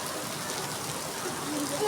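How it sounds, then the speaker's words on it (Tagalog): Steady rain hisses across the whole moment in Cavite, Philippines, a dense wash of falling drops with a faint voice briefly audible near the end. "It's raining. It's been raining in Cavite."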